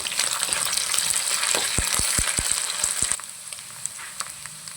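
Dried red chillies frying in oil in a kadai, a strong steady sizzle with a quick series of sharp knocks from a stirring spoon, after which the sizzle drops to a quieter hiss.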